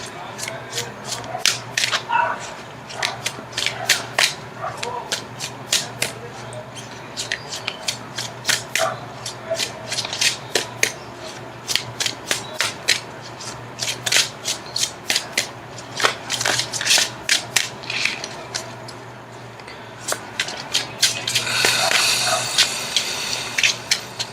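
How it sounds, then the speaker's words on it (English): Tarot cards being shuffled and cut, giving a long run of rapid riffling and sliding flicks in quick bursts, close by and fairly loud, with a steady low hum underneath and no talking. "I'm going to cut the cards."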